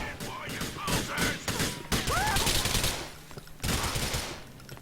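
SMG fired in a video game, with rapid bursts of automatic gunfire crackling in quick sequences amid other game sounds and shouting voices, loud and close.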